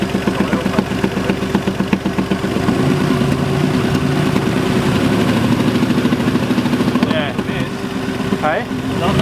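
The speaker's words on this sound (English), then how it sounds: "There's definitely an exhaust leak." A VR Commodore ute with a turbocharged V6 runs steadily with a big exhaust leak, giving a loud, continuous engine drone close by. Voices talk over it, and there are some brief higher noises near the end.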